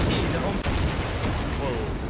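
Dense rumbling frag grenade explosions in Call of Duty: Modern Warfare II pile up over a roar of noise, with a couple of sharper blasts standing out in quick succession.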